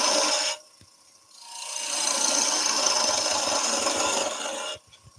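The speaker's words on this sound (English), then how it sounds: "Just using the spindle gouge to get right in." Spindle gouge cutting into a piece of driftwood spinning on a lathe, a steady rasping scrape that runs for several seconds after a short pause, close and fairly loud, with no voices.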